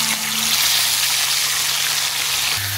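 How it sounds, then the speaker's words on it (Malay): Water poured from a height into a cooking pot for a vegetable soup, a steady broad splashing rush held at close range for nearly three seconds with a faint low hum underneath. "Masukkan air sikit."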